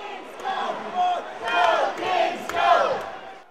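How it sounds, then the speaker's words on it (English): A hockey arena crowd cheers and roars in rising waves, a dense mass of voices swelling three times, loud and close, with no single speaker standing out. "the crowd reacts, getting pumped up by the River Kings' #1 fan, Caleb English"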